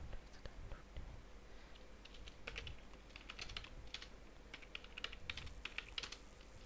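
Typing on a computer keyboard while writing Python code, a steady run of soft, close key clicks with uneven rhythm over low background hiss, quiet throughout.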